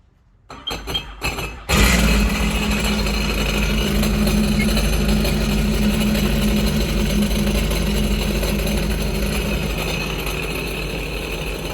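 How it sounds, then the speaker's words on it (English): After a few sputtering cranks, a Sea-Doo Spark jet ski engine, running during winterizing with water hooked up, catches and settles into a loud, steady running rumble that continues throughout. "my brother's gonna start the engine on our jet ski first"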